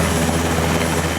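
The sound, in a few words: Taipan military helicopter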